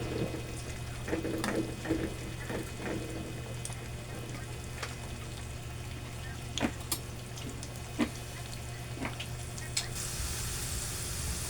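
Pili nuts sizzle steadily as they fry in a pan, a constant close crackle with occasional sharper pops and stirring clicks, and no talk.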